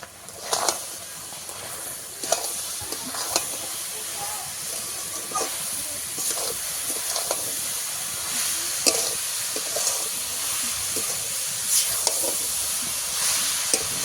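Coconut filling for vapa puli pitha, made with sugar melted in a pan, cooks and sizzles with a continuous hiss and soft scraping stir strokes. A voice speaks at times.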